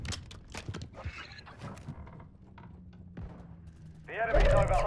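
A magazine change on a gun in Call of Duty Modern Warfare III: sharp mechanical clicks and clacks in quick succession, then quieter handling noise, ending in a louder burst of in-game sound.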